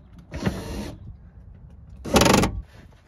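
An electric power window motor on a BMW E30, reinstalled and run for testing, whirs in two short bursts about a second apart, close and moderately loud with a mechanical buzz.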